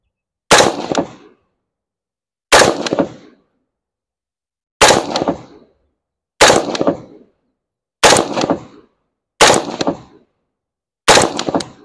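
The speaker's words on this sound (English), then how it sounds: "We're just doing regular shooting." Rifle fired with iron sights at a shooting range, seven sharp loud shots spaced a second or two apart, each with a short ringing decay, no talking.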